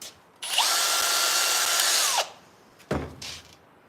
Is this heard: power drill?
yes